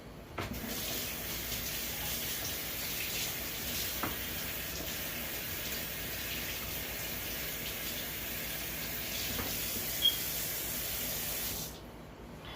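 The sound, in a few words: rinsing a papaya under running tap water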